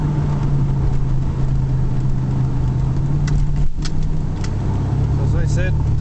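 Interior of a 1999 Buick LeSabre Custom sedan cruising at about 100 km/h on a bumpy road: a steady, loud low rumble of engine and road noise with faint thumps, while a person talks over it.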